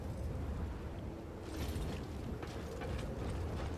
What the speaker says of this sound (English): Sounds like it's storming out here.